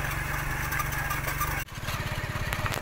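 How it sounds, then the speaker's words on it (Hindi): A tractor towing a trolley loaded with sticks rumbles steadily nearby with a throbbing engine note, which briefly dips before resuming its rhythmic chug. The setting is a date palm orchard. "ट्रैक्टर ट्रॉली जो है वो छड़ियों को लेके जा रही है अपने साथ।"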